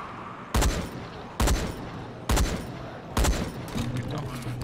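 A camouflage rifle in Dying Light fires four loud single shots at a steady, unhurried pace, each a sharp blast standing out above quiet background game noise.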